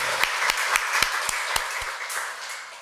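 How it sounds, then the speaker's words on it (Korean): A church congregation claps to welcome a missionary, with sparse, fairly loud hand claps at a steady beat that thin out and fade after about two seconds. "선교사님 우리 한 박수 한번 해 환영하겠습니다."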